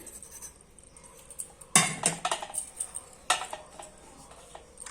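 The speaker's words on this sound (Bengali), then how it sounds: "এই যে গরম গরম ভাত বাড়ছি" Hot rice being served from a pot, with sharp clinks and scrapes of a spoon against metal rising from a quiet background, one clatter standing out.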